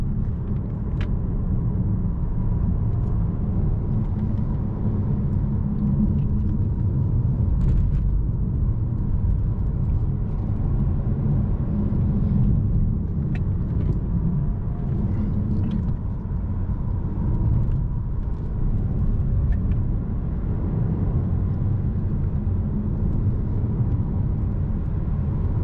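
An Opel Astra GSe 1.6 Turbo Hybrid driving over broken, uneven roads, heard from inside the cabin as a loud continuous low rumble of tyres and suspension with occasional faint knocks and thumps, and no talking.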